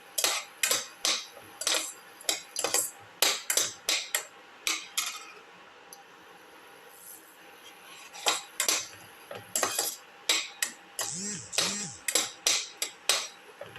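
A utensil scrapes and clatters rhythmically against a pan while shallots and garlic are sauteed, the quick close strokes coming in bursts with a short lull in the middle.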